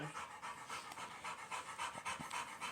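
A dog pants rapidly and rhythmically, close and quiet, with steady quick breaths and no talking over it.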